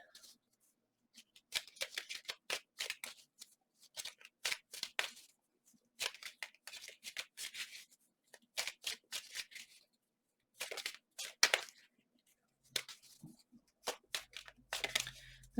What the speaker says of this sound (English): The shuffling feels funny suddenly, like glitchy, not glitchy